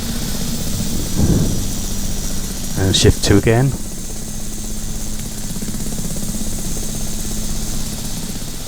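A Robinson R66 turbine helicopter in the X-Plane flight simulator keeps up a steady droning engine and rotor hum throughout, with someone speaking briefly over it partway through.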